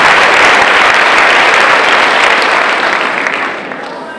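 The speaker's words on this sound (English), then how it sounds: "Give that a round of applause." Large audience at a 2018 high school graduation ceremony applauding in a dense, loud wash of clapping that fades slightly toward the end.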